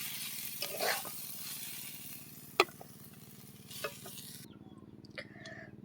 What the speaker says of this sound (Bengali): মুলো আলুর মটরশুঁটি ভাজা কমপ্লিট তুলে নেব আমি